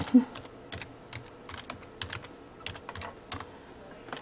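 Irregular clacking keystrokes on a computer keyboard, close and fairly loud, coming in uneven bursts of taps with short pauses between, no talking.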